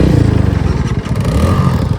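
A motorcycle with a modified loose exhaust revs loud and close on an off-road ride, its throaty pulsing engine note rising and dipping over two seconds with no voices.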